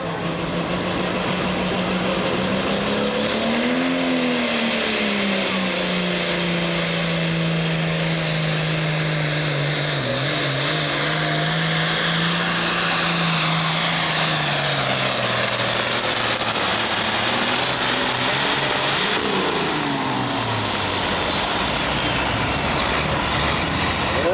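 A diesel pulling tractor at a 2003 American Tractor Pullers Association tractor pull in the 9,300 super class roars loudly and continuously at full throttle, its pitch rising and falling with a high turbo whine above, then dropping off near the end.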